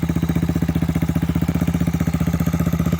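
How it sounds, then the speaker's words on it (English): A Honda ATC 350X three-wheeler idles steadily close by, a loud, fast, regular putter of evenly spaced firing pulses with a slightly quick idle. "Maybe idling a touch fast."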